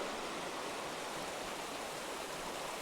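A river running over gravel produces a steady, broad rushing wash that continues unbroken and fairly close, with no voices.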